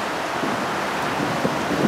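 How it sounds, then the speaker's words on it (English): Wind blowing outdoors on a cold day makes a soft, steady broadband rush with slight gusty swells, heard alone without any voices. "It's getting windy and cold out here."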